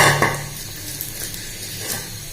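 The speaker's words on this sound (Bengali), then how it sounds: "সো এখন আমি ভুট্টোগুলো দিয়ে দেব" Corn kernels poured into hot oil in a pan for popcorn, sizzling steadily with a thump at the start and light clinks of a pot and spoon throughout.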